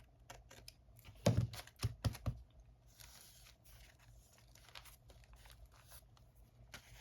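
Paper edge being cut for a page-spread upcycling craft, a few quiet close snips and crisp crunches in a short cluster, then faint rustling.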